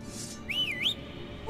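A short two-part whistle in The Witcher 3 video game, rising then dipping, clear over a quiet game ambience.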